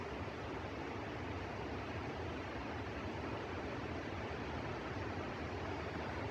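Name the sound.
headwall waterfall in the Sierra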